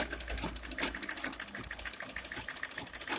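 Sewing machine stitching the placket of a unisex danshiki, running at a steady, fast mechanical rhythm of close, even pulses throughout.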